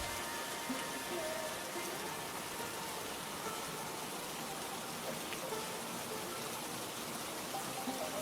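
Rain falling steadily, a soft, even hiss of drops without pause, faint and distant-sounding throughout.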